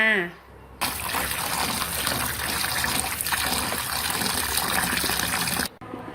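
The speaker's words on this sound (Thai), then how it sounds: "หลังจากเก็บมาเรียบร้อยพอแล้วเราก็นำไปล้างน้ำค่ะ" About a kilogram of freshly picked black karonda fruits are washed under loud, gushing running water that pours steadily for several seconds and then cuts off abruptly, with a brief voice just before.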